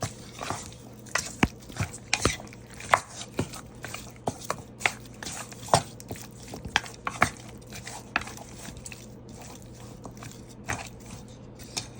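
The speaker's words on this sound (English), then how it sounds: "I'm going to be stirring it, mixing it together. Make sure the ribs is well coated with the seasoning." Raw ribs tossed and mixed with seasoning in a bowl, a string of wet slaps and clacks in an uneven rhythm, close and fairly loud, over a low steady hum.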